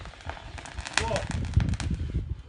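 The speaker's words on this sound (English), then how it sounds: "Time for more fireworks." Fireworks on bonfire night crack and pop in scattered bursts, with a sharper bang near the middle, over a bed of outdoor crowd noise and nearby voices talking.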